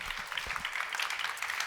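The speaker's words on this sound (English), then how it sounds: "How about a round of applause for them?" Brief burst of audience clapping after a panel debate at a business conference, a dense patter of many hands at moderate distance, steady for under two seconds.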